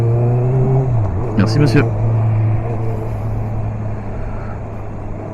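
A motorcycle exhaust note while riding, with a steady, loud low engine drone that shifts pitch briefly before settling, as someone speaks a short phrase over it.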